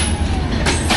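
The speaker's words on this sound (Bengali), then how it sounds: "এই কপোতাক্ষ আসছে খুলনা থেকে" Kapotaksha Express, a Bangladeshi passenger train from Khulna, rumbles steadily with a constant wash of noise and brief louder bursts, close and loud, with no talk.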